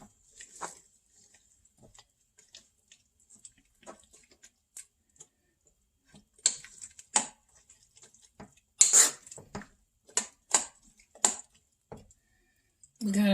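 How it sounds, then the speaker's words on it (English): Broccoli stirred in a pan gives scattered light scrapes, taps and faint sizzling, with short louder clatters in the second half. "Add our broccoli in. Let's get it stirred around."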